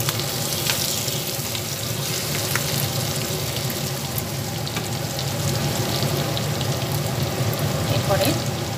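Bhetki fish pieces frying and being stirred in a pan, giving a continuous sizzle with intermittent spatula scrapes and some running-water-like hiss, heard close.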